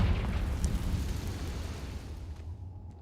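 A Confringo fire spell blast in the video game Hogwarts Legacy, a loud booming burst with a roaring rumble that slowly fades out, no talking.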